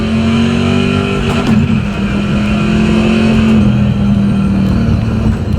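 A race car engine in the iRacing simulator revs hard and holds a loud, sustained drone as it accelerates off the launch, with steady harmonic tones shifting through the run and no voices over it.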